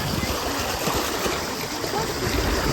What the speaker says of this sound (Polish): To tutaj takie fajne fale robi.